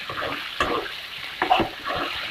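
Duck meat with turmeric and salt sizzles in a pan while being stirred, with crackling bursts of frying and scraping stir strokes recurring at close range.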